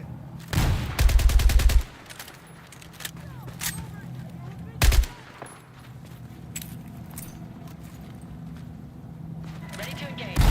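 Video game gunfire in a squad combat match: a rapid burst of shots near the start and another short burst around the middle, with a steady low rumble and chatter between them.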